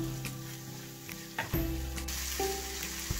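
Green chilies and capsicum sauté in a pan for a Bengali prawn curry. The sizzle is loud and close, with a few clanks of a spoon against the pan, and no voices.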